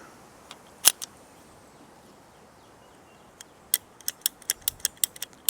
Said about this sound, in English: Cut past the kind of damaged section of hose here.